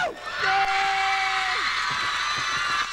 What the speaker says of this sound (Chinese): 再一次为郭富城欢呼